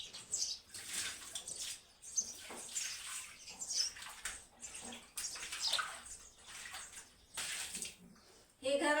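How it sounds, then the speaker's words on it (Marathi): Water is poured and splashed across a home floor to wash it, giving repeated rushing, spattering bursts at moderate loudness, with faint bird chirps in the background. "याला पुसता येत नाही, असं धुवा लागते पाणी टाकून"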